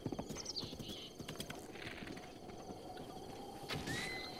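Galloping horse hooves clip-clop rhythmically in Zelda Breath of the Wild, joined by a whinnying neigh and a moblin rider nearby, the hoofbeats dense and steady at moderate volume.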